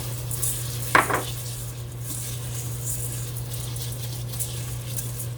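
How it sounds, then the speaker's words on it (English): Orzo pasta browns in butter and oil with a soft, continuous sizzle and a steady hum, marked by one clear clink of a utensil against the pan early on. "Now I'm going to put my pasta in here and let it brown just a little bit."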